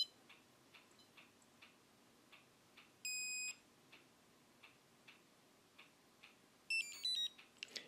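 A Barkless Pro BP 504 bark collar gives two short, high electronic beep bursts as it is switched off, one near the middle and one near the end, over steady ticking clicks in a quiet room.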